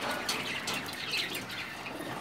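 High-flying pigeons at a loft, with soft chirps and bird calls and a hint of wing movement over a steady airy background, nearby and moderate in level.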